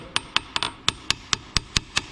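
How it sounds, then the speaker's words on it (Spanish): A hammer strikes a stuck pin in the differential of a Chevy SS Coupé under restoration, ten sharp metallic blows at a steady, fairly even rhythm, close and clear with no talk. "Le estoy dando ahí con el martillo"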